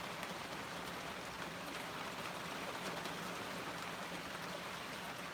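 Rain falling in Port Washington, New York, a faint, even hiss of steady drops with no distinct splashes or voices, unchanging for the whole stretch.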